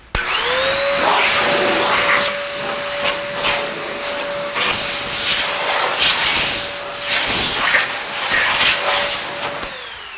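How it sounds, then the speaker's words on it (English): Compressed air blower roaring steadily and loud for nearly the whole stretch, blasting loose dust and debris off a car's body and wheels before a rinseless wash, with a faint whistling tone over the rush of air. "if you got compressed air or some kind of blower like this right here, we're gonna use this to blow any loose dust, dirt, and debris off the whole vehicle"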